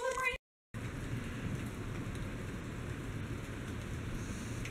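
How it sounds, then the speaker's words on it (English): Steady rain falling outdoors during a thunderstorm on the 4th of July, a constant hiss of drops with low rumbling underneath after a brief cut near the start. "It is thundering so bad out here."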